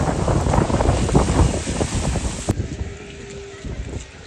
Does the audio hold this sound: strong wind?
yes